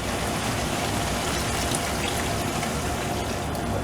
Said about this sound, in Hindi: तो अभी हम इसमें पानी डाल लेंगे।